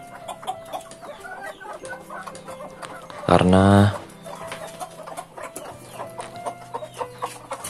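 Chickens clucking close by, with a rooster-like squawk in the middle and someone talking over the birds.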